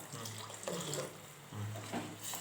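Water poured into a cooking pan of greens with grated coconut sizzling in oil, a short splashing gush that pauses then resumes, close and moderately loud with no talk.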